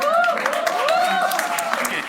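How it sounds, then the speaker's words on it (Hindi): Audience applause at a stand-up comedy show, steady clapping from a crowd for about two seconds with whoops and voices riding over it. "एक बार जोरदार तालियों के साथ"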